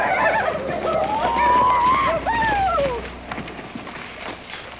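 Horses whinny in a long, rising and falling neigh, then a second shorter one follows, up close and loud, with faint hoof movement and outdoor rumble beneath, no talk.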